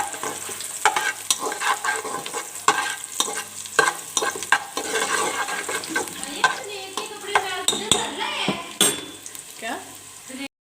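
Onions fry in hot oil with a constant sizzle, broken by repeated scraping stirs and metallic clinks of a spoon against the pan, close and fairly loud.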